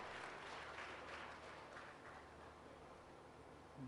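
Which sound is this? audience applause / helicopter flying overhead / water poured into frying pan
audience applause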